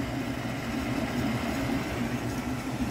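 A SereneLife portable electric air conditioner, 900 W and 8000 BTU, runs in fan mode with a steady, even low whoosh and hum of moving air, moderately quiet and unbroken.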